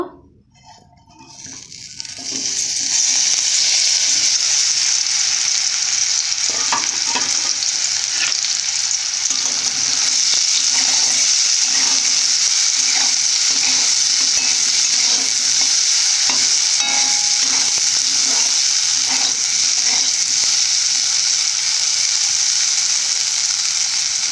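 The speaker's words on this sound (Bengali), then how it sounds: "খুব ভালো করে ভেজে নেব বড়িগুলো" Soya chunks frying in a hot pan of oil give off a loud, steady sizzle that holds for the whole stretch, with faint scraping and stirring beneath it.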